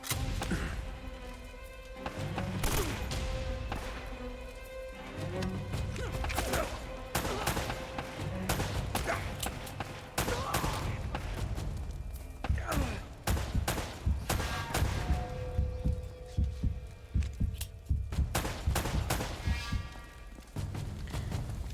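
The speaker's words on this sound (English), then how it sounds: "That was a lot of bullets to kill one dude." Dense gunfire from Uncharted: Drake's Fortune, with rapid volleys and bursts of shots, close and loud, with heavy impacts and thuds scattered throughout.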